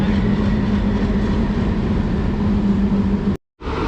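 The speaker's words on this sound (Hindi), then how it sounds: "बाकी यहाँ पे ये शंटिंग का काम कर रहा है। WDM 3D है ये" A WDM 3D diesel locomotive doing shunting work at a station gives off a loud, constant low engine drone and rumble, broken briefly by a sudden cut near the end.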